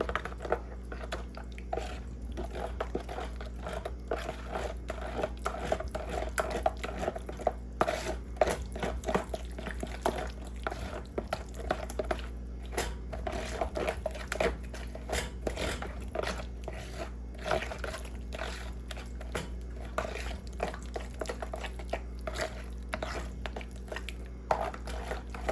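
Carrot cake batter being mixed by hand, with a run of soft, wet squishing and scraping strokes against a bowl, close and steady over a low background hum.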